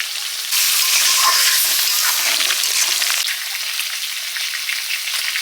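Potatoes sautéed with salt, turmeric, cumin and chilli powder plus onion, ginger and garlic paste in a pan give a steady loud sizzle with scraping stirs, starting abruptly and continuing throughout with no talk.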